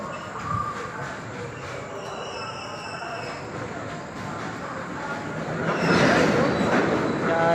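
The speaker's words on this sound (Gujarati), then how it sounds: "આ રેલગાડી જાય છે," A train rolls past near Viramgam railway station, a broad rumbling wash that swells louder toward the end as the cars draw close, with faint voices underneath.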